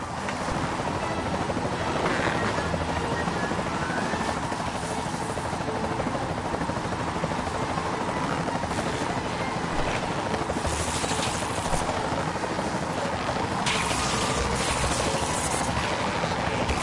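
A helicopter flying in a PS4 video game gives a continuous loud rotor drone with a rushing, wind-like wash that holds steady throughout, briefly swelling near the end.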